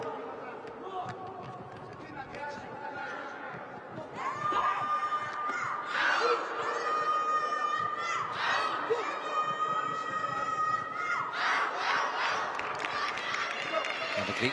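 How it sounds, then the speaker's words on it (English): Greek team supporters cheer and shout from the stands at a junior world taekwondo championship in an indoor arena. The crowd noise is moderate at first, then swells into louder, overlapping yells and calls beneath a commentator's voice. "the Greek team doing their best to give some cheer to Aris Saros"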